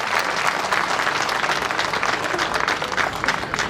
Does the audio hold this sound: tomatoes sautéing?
no